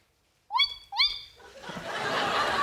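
A person imitates a tawny owl's call and response with two quick rising whooping hoots, close and clear, followed by a swell of audience laughter.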